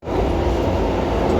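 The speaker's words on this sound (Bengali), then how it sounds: "চলে আসছে মেট্রো।" A metro train arriving at a busy station, a loud, steady low rumble and roar that starts abruptly and holds for the whole short stretch.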